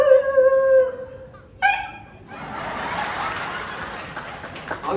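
At a community felicitation gathering in Mumbai, a performer imitates angry street dogs fighting: a few drawn-out howl-like cries, then a sustained rough, snarling growl that runs to the end.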